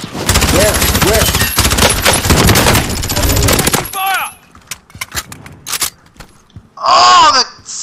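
Sustained automatic gunfire from the video game Call of Duty Warzone, loud and dense for several seconds, then scattered single shots and a brief burst near the end, with excited voices and groans mixed in.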